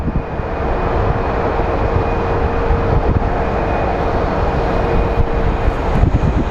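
An airplane lands at Phoenix Sky Harbor airport with a loud, steady broadband engine roar and a faint high whine throughout; no one speaks.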